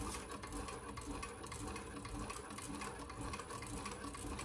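A Thor sewing machine runs decorative stitching in a faint, continuous rhythmic whir with rapid needle ticks, steady throughout with no talking.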